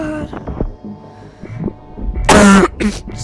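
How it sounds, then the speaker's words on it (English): A person with a bad cold gives one harsh, loud cough burst partway through, with softer throat noises around it. "Sorry for coughing."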